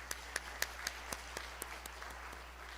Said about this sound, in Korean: 우리 강사 목사님한테 감사의 박수 한번 올려드리겠습니다